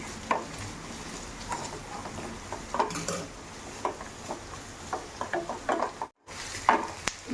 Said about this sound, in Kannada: ಕರಿಬೇವು ಇದಕ್ಕೆ ಕೊತ್ತಂಬರಿ ಸೊಪ್ಪು ಹಾಕಲ್ಲ ಸ್ವಲ್ಪ ಫ್ರೈ ಈಗ ಇದ್ರ ಜೊತೆಗೆ ಬೆಳ್ಳುಳ್ಳಿ